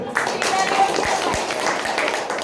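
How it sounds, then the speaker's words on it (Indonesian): An audience at a business seminar breaks into dense, sustained hand clapping that fills the room for a few seconds at steady loudness. "Tepuk tangan dulu."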